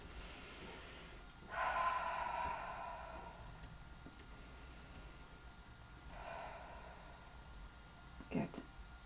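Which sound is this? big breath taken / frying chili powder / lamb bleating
big breath taken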